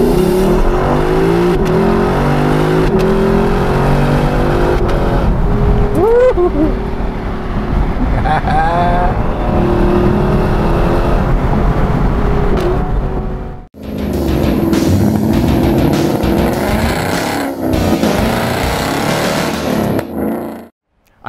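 A 2021 Lexus LC500 Convertible drives by with a loud, steady engine note and some revving, then a brief drop before the engine comes back strongly. Someone speaks at points over the engine.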